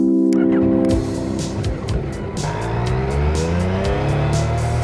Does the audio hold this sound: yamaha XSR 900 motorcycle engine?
yes